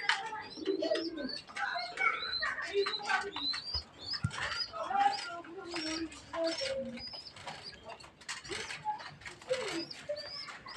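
Racing pigeons feeding their chicks give repeated soft coos and murmurs up close, mixed with small chirps and faint rustling in a loft, with no talking.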